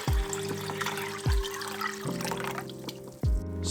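Water poured into a saucepan holding kombu, a close trickling and splashing stream with a few sharp clunks at the start and end.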